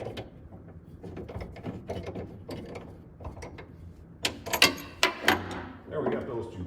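A ratchet on an extension tightens bolts on a 1923 Ford Model T bucket hot rod. Short metallic clicks and clanks arrive in quick bursts, growing louder and sharper toward the end, with a voice audible at times.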